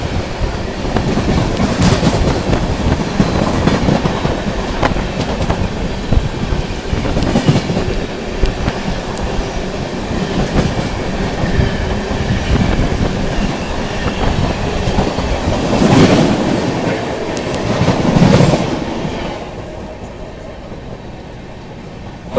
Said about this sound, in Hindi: तो दोस्तों सामने से आ रही है अपनी लखनऊ नई दिल्ली गोमती एक्सप्रेस